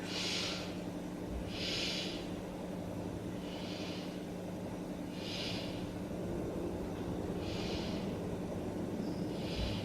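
Slow, deep breaths in a yoga pose, six or so airy breath sounds spaced about two seconds apart over a low steady background hum.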